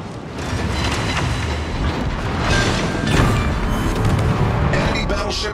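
An enemy battleship explodes and sinks in a naval combat game, giving a loud, dense rumbling roar of blasts and crashing that rolls on without a break, with a voice heard over it.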